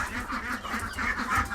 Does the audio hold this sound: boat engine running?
no